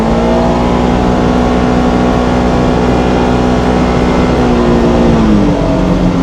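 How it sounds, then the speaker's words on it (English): A 2027 Polaris Xpedition side-by-side accelerates with a loud, steady engine drone that rises evenly in pitch, heard from inside the vehicle. "I'm gonna give it some gas and see how it reacts."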